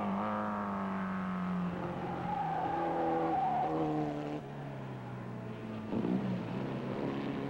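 Racing cars howl past at speed at Mosport, their engines droning loud and steady with pitch sliding as they pass and change gear, one car after another, with no voices over them.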